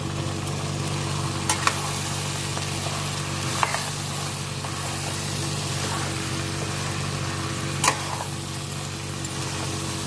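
Drumsticks frying in a pan for an egg curry with dried prawns, giving a steady, even sizzle over a low hum, broken by a few sharp scrapes or stirs.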